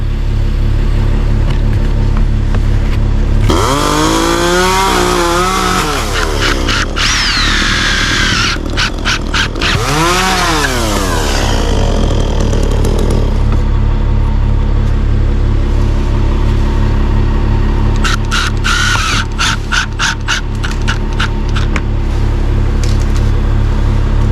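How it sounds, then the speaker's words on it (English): Milwaukee impact driver on its metal roofing setting spins and hammers self-tapping screws into a metal roof, loud close bursts of rising whine and rapid impacts over a constant heavy rumble. "Milwaukee Impact actually has a metal roofing setting, believe it or not. It spins real fast to get the self-tapping screw started"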